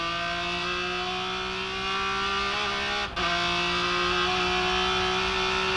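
A race car engine during 2003 Sebring World Challenge Speed GT racing drones steadily from onboard, its pitch sliding gently as the driver eases the throttle, with one brief dip midway and no speech.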